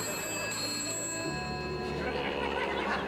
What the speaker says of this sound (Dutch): Nee, pak die telefoon nou toch eens aan,